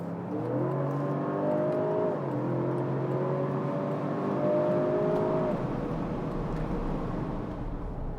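A 2022 Jaguar F-Pace P400e plug-in hybrid pulls hard under steady acceleration, its engine note climbing through the gears in a continuous, fairly loud drone with rising harmonic sweeps heard from inside the cabin.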